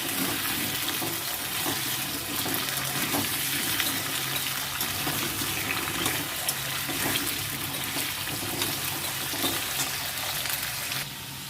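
Potatoes fry in a pan as they are stirred, a loud steady crackling sizzle close up that runs unbroken throughout and eases slightly at the very end, with no voices.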